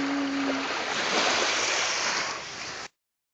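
Sea surf at San Pietro beach on Ischia, a steady broadband wash of waves close by, continuous and fairly loud for about three seconds before cutting off, with a brief tonal hum early on.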